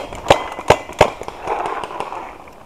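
Sharp, loud shots from a Dye NT11 paintball marker at an outdoor paintball field, three distinct pops spaced about a third of a second apart, then quieter rustling and faint background activity.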